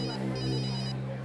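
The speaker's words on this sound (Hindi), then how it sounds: "सर का फोन," A phone ringtone sounding for an incoming call: a short, steady electronic melody with bright sustained tones, loud and close, with no talk over it.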